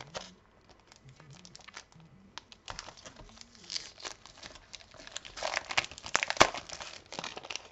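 Crinkly vellum paper rustling and sliding as sheets are handled, with soft crackles and a few sharper crisp snaps toward the end.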